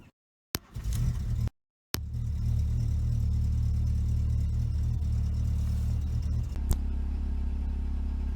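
A VW Golf 3 engine running on E85 ethanol idles close by with a steady low hum. It cuts out briefly twice near the start, then settles into an even, continuous drone with no talk over it.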